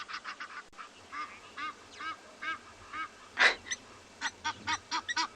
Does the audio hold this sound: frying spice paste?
no